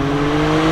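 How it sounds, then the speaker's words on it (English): A Porsche 911 R's engine and exhaust rumbling from inside the car while driving, a short, steady, close, loud droning hum with strong low tones. "When you change down, you really hear the rumble from the exhaust, the pop, pop, pop, pop, pop"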